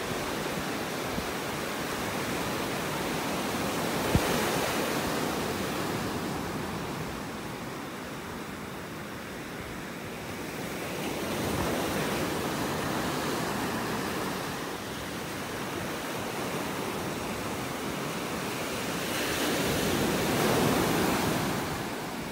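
Steady wind and rolling surf on a Gulf of Mexico beach in North Naples, Florida, a continuous broad rush with gentle swells of louder breaking waves and some wind buffeting on the microphone.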